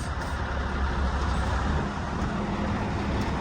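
A truck pulling a trailer forward, checking that its wheels are not seized, gives a steady rumbling engine and rolling drone at moderate loudness throughout, with no voices.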